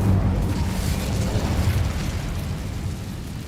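An Incendio fire spell cast in Hogwarts Legacy, a loud close burst of fiery rushing noise that swells at once and roars steadily without pause, dense and booming with no voices over it.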